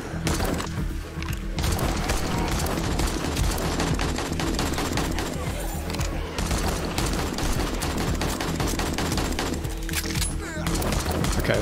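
Rapid bursts of gunfire against zombies in 7 Days To Die, dense and loud with continuous cracking shots and booms, and a voice talking at times beneath the shooting.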